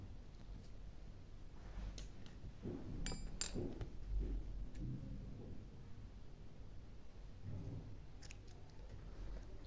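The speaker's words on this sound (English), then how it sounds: "chain 1 and cut off your yarn" Scissors snip through crochet yarn at the end of a slip-stitch chain, giving a few short, quiet clicks near the middle over a soft low room background, with no talking.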